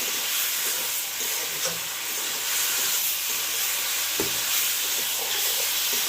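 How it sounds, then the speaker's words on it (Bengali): Fried pointed gourd, potatoes and sugar stir-fried in a pan over a hot stove: constant sizzling with occasional scrapes and knocks of the spatula, no voices. "এবারে দেবো ভেজে রাখা পটল আর দেবো স্বাদ মতো চিনি আরও ভালো করে কষিয়ে নেবো"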